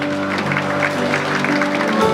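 Wedding guests in a Gangnam hall clap warmly as the bride enters on her father's arm, a continuous close ripple of applause over soft sustained instrumental music.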